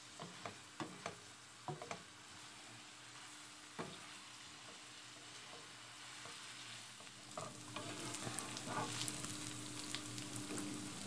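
Chicken liver frying in ghee on a flat tawa, a steady soft sizzle with occasional stirring clinks and scrapes, the frying growing a little louder toward the end.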